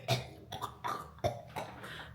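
A man coughs hard and repeatedly, five or so harsh, close bursts spread unevenly over a couple of seconds, with no talking between them.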